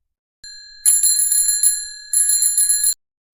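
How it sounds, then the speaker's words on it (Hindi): A bicycle bell rings at night, with two bright metallic trills of rapid repeated dings, close and loud against silence. "साइकिल की घंटी गूंजी।"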